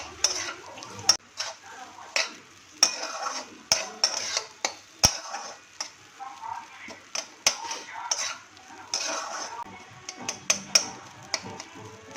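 A spoon scrapes and taps steadily through semolina upma in a pan until it turns crumbly, with repeated clicks over a faint sizzle. No one speaks.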